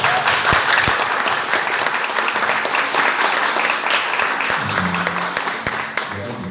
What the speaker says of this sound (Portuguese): junto com uma salva de palmas da igreja para o Caio.